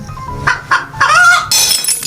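Close, loud chicken squawking and clucking calls in quick succession from the video game Robbery Bob 2: Double Trouble, with no talking.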